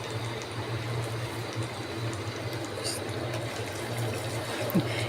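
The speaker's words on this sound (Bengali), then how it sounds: "এই পর্যায়ে আমি পানি দিয়ে দিচ্ছি।" Hot water is poured into a pot of biryani rice and meat, a steady close rushing and gurgling that runs unbroken through the whole stretch.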